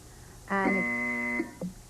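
A single harsh buzzer from a 1972 television game show panel, a loud nasal tone lasting about a second that cuts off sharply, followed by a brief soft blip.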